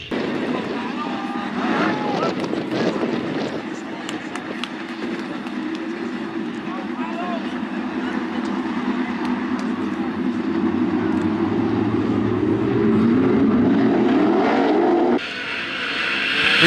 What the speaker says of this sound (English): Green out for the fourth and final heat race for the Callies Performance Products 410 Sprint